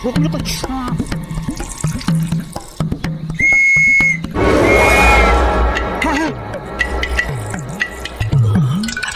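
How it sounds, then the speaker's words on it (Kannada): A police whistle gives a short, shrill, steady blast in a comedy scene from a Kannada-dubbed film, starting near the middle, with speech and other scene noise around it. "ಪೊಲೀಸ್ ಟ್ರೈನಿಂಗ್ ತಗೊಳ್ಳೋ ಬಿಸಿನಲ್ಲಿ ಈ ಸೀಟಿ ಹೊಡೆಯೋದನ್ನ ನಾನು ಮರ್ತು ಬಿಟ್ನಲ್ಲ."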